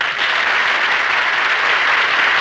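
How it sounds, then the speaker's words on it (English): A studio audience at a radio comedy program breaks into sustained, even applause, a dense wash of clapping filling the whole moment without any voice over it. "They told me there would be applause here."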